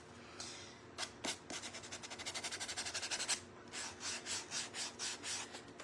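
Sandpaper rubs back and forth over a painted wooden shelf sitter to give it a rustic, distressed look: a quick run of close, rhythmic scratchy strokes, then slower, steady passes.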